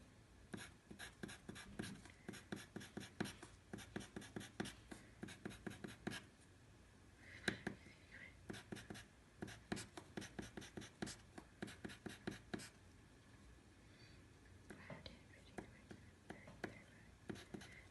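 Pen drawing on paper during a math addition lesson, with quick repeated scratchy strokes in clustered bursts and short pauses, close and fairly quiet throughout.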